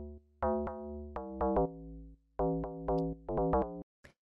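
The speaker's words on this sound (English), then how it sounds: "like the usual kind of FM deep house pluck" An FM deep house pluck synth layer built in Ableton Operator plays short bright stabbed notes in a syncopated, bouncy rhythm, clean and alone, each pluck decaying quickly.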